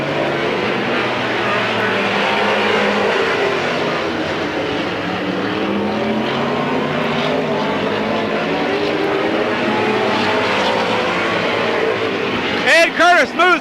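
Race cars roar around Midvale Speedway at the 1995 Fall Classic, a continuous, loud blend of engines rising and falling as the field circles, with a commentator talking over it and a few sharp bursts near the end.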